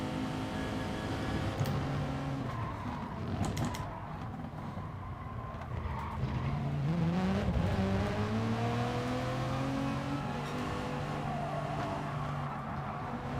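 A Lexus GT3 race car in Gran Turismo Sport, its engine droning and revving with rising and falling pitch through gear changes, loud and close without talk.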